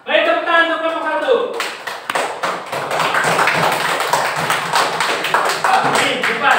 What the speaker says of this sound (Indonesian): Baik, tepuk tangan untuk kelompok 1.